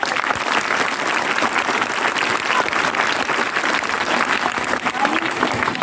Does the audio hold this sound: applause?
yes